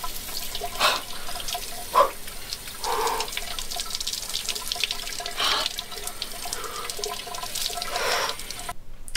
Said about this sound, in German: Unter das eiskalte Wasser gehen.